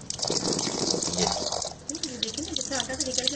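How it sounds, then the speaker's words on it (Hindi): Tap water gushing and splashing while kneaded flour dough is rinsed under it, a steady close running stream with shifting splashy texture and a voice talking over it. "अब ये पानी साफ निकल रहा है"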